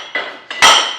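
Metal weight plates clank on a gym cable machine: three sharp, ringing metallic knocks in quick succession, close by and loud, the final strike the heaviest, with no talking over them.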